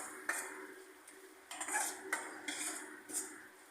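Utensil scraping and clinking against a pan while paneer ghotala sabzi with grated cheese is mixed, a Surat street-food dish; several soft, irregular scrapes and taps at close range, with no talk.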